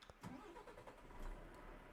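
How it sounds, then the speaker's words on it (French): A Volvo FH classic truck, an FH12/FH16 of 2012, starts up in an SCS truck simulator game: a brief cranking burst, then a steady, low diesel rumble settling into an idle, close and alone with no talk. "je vais vous laisser apprécier ce doux bruit de moteur"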